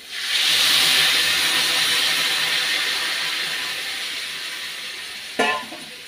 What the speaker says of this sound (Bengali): গরম জল দিয়ে দেব।